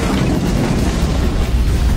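A drone strike explosion in a movie scene gives a loud, dense, sustained rumble with a heavy low-end roar that fills the whole stretch without a break.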